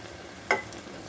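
Fried lentil dumplings (bori) are dropped into a pan of spinach over high heat, giving one short burst of sizzle that quickly fades into a low, quiet crackle.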